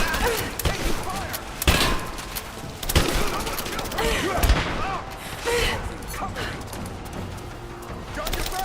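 A dense exchange of gunfire in Rise of the Tomb Raider, with rapid, loud overlapping shots and sharp cracks throughout while characters shout over the noise.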